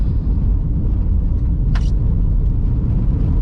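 A 2023 Haval H6 GT 4WD drives along a gravel B-road, giving a steady, loud low rumble of engine and tyres on loose stones throughout, with one brief higher scrape or ping midway.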